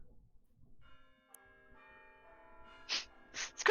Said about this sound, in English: You hear the sound of the bell tower up above.